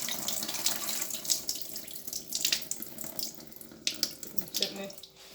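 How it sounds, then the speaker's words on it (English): Cold tap water runs steadily over frozen meat in a bowl, a close, continuous splashing gush filling the whole stretch with small shifts in flow and no talk. "I tend to run cold water over it."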